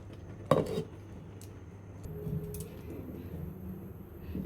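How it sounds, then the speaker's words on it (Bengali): A metal lid clanks down onto a cooking pot of bottle gourd leaves being boiled with salt, one sharp near clatter followed by a few soft clinks over a low kitchen background hum. "এখন আবার একটু ঢেকে দেব"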